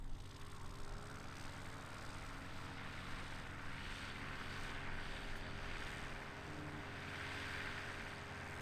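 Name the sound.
aircraft throttling up for takeoff at air race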